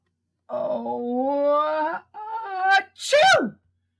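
A storyteller's voice imitates a sneeze, drawing out a rising, wavering "ah-ah" before a sharp, explosive "choo" burst at the end, close and clear against silence.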